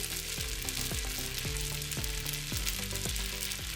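Singaporean rice with green onions stir-fries in a hot pan, a constant bright sizzle with a steady beat of spatula scrapes and stirring.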